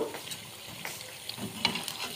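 Potato fritters sizzle softly in frying oil as they are turned one by one, with a quiet, steady hiss broken by brief scraping and splashing bursts.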